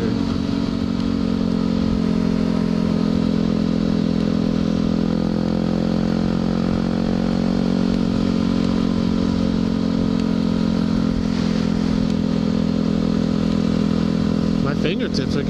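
Motorcycle engine droning steadily and loud throughout a cold-weather ride, with wind rush and a brief clatter near the end.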